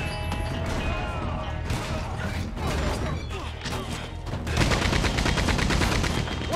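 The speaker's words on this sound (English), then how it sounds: "Watch out for that Gatling gun." A Gatling gun fires in the video game Red Dead Redemption 2, loud rapid rattling bursts mixed with crashing impacts that become a dense, fast volley in the last seconds.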